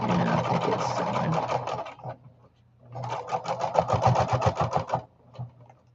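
A sewing machine stitches through fabric in two rapid runs, a close, loud mechanical chatter that pauses briefly in between before starting again.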